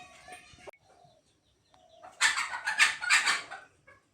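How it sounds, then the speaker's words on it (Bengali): Chickens clucking outdoors: a short run of loud, close clucks and squawks in the second half, after quieter scattered sounds and a brief faint call near the start. "বাইরে মুরগি ঢাকাঢাকি করতেছে"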